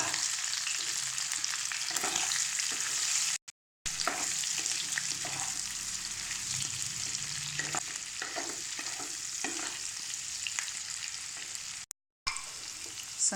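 Boiled potatoes sizzle steadily in a pan with red chili powder for a potato pickle, with scraping stirs over a continuous frying hiss and two brief drop-outs in the sound.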